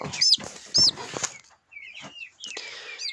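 A young chick held up close gives a few sharp high peeping calls, with brief rustling and a quieter pause between the chirps.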